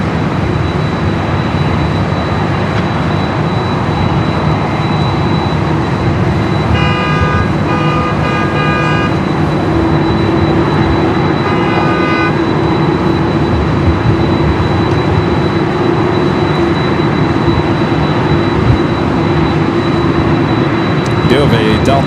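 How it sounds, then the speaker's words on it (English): Jet engines of a Delta Boeing 767 roar steadily and broadband at LAX, a constant loud wash with a sustained tone throughout, with brief beeping tones partway through. "Of a Delta 767, that is what you're hearing mostly."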